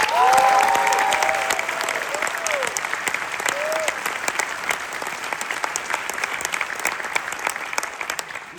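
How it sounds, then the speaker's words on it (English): An audience claps warmly for a band at a show, a dense sustained round of applause that starts loud and gradually thins, with a few faint whistling tones early on. "I'd like to dive in and also ask for a warm round of applause and some thanks."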